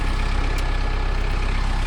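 A tractor engine pulls a light trailer along a woods road, a steady loud low rumble with a constant drone and no pauses throughout.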